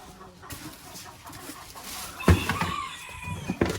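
Chicks and chickens cluck and squawk nearby, with a few sharper calls and scattered clatter against a quiet barnyard background.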